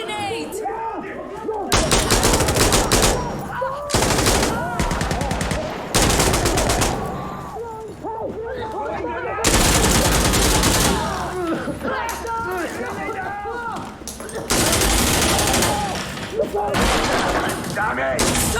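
Bursts of rapid automatic gunfire and single shots in an Insurgency Sandstorm PVP match, loud and close, in repeated volleys separated by short pauses, with players talking over the shooting.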